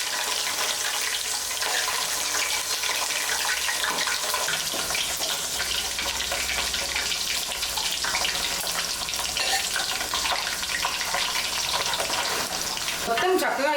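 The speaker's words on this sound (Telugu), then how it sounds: "మొత్తం చక్కగా ఇలా ఆయిల్లో ఫ్రై చేసుకోవాలి" Chicken pieces frying in oil for pickle, a dense, steady sizzle with scraping stir sounds running continuously and close throughout.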